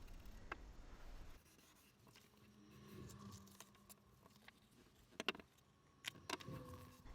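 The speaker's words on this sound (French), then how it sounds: "J'aide la colle à adhérer en marouflant avec le plioir" A bone folder rubs across paper, pressing down glued tabs on the front of a handmade card pocket. It makes soft, scratchy, intermittent strokes with a few sharper taps, close and quiet, and no one speaks.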